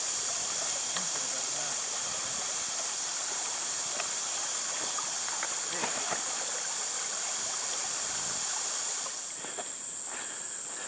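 A creek in the Red River Gorge flows with a steady, even rush of water, close and constant throughout, with faint insect chirps in the background.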